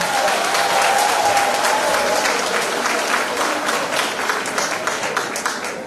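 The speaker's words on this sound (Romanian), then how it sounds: "Ia să auzi niște aplauze!" An audience at a women's day party held by a local political party organisation applauds steadily, a dense continuous wash of clapping from many hands that fades slightly toward the end, with faint voices mixed in.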